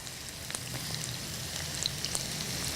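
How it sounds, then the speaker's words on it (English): Chili and tomatoes sizzle and fry in a pan for a Balinese water spinach dish, a steady close crackle with small scattered pops and faint stirring scrapes throughout, no voices. "Stir it and add the tomatoes"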